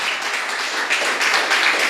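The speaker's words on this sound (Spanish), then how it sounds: "Dale un aplauso a Cristo" A church congregation claps and applauds steadily for a couple of seconds, a dense, continuous patter.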